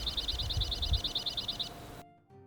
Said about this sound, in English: It's a white-winged crossbill.